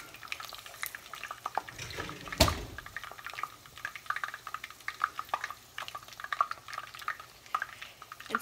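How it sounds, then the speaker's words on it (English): Soft crackling and bubbling of shrimp egg rolls frying in hot oil, with a sharp clatter near the start and steady small pops throughout, no voices. "I want it to really sizzle when I put it in."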